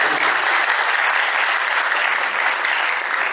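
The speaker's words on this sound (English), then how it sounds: "I need a round of applause." Loud, steady applause from a live audience at a faith and relationships discussion, a dense continuous wash of clapping that holds evenly for a few seconds with no speech.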